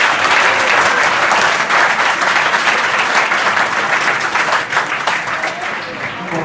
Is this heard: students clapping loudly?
yes